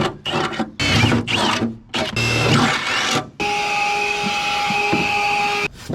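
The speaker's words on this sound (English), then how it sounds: "we're just gonna drill out 3/8 holes to put these little suckers in" A drill bores 3/8-inch holes while a B&W gooseneck turnover ball is fitted to a 2022 Ford F250 Super Duty, with several short close bursts followed by a long, steady, high-pitched whine.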